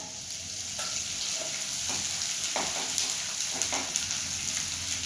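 Edible gum (gond) fries in hot ghee with a steady, close, bright sizzle. A few soft clinks of stirring rise above the frying now and then.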